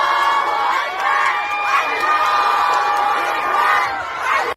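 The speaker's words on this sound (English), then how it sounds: "So you can hear the clapping and cheering, right?" Iranian university students cheer and clap as a loud, dense crowd roar that stays steady throughout, with whoops and shouts rising over it before cutting off abruptly at the end.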